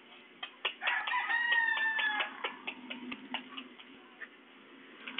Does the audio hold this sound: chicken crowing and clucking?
yes